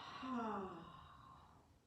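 A long, audible exhale during an aerial yoga session, one soft sigh-like breath that swells and then trails away, close and quiet.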